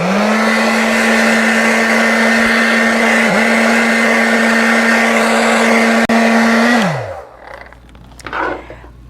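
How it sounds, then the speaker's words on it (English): A hairdryer on its cold setting blows steadily over wet acrylic paint on a canvas, a loud constant whirring hum that runs evenly for about seven seconds, then winds down and cuts off, leaving faint handling noises. "I'm going to take my hairdryer and I'm going to quickly dry it up on the cold setting"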